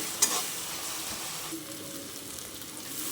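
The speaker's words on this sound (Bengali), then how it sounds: "তারপরেও ভালো করে আরেকবার নেড়ে নিতে হবে।" Chicken kosha being stirred in a pan, a soft even sizzle with a faint scrape near the start, quiet and close with no voices.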